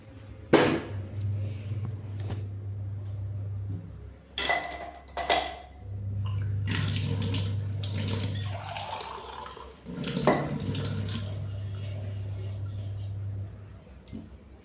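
Running tap water splashes outdoors while dishes are washed by hand, flowing in three long stretches with pauses between, broken by occasional clinks and knocks of utensils.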